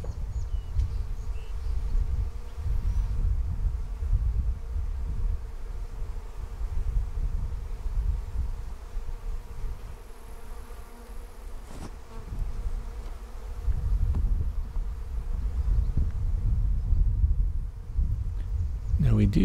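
A low, continuous buzz of a swarm of honey bees hums throughout, swelling and fading slightly, close and steady with no talking.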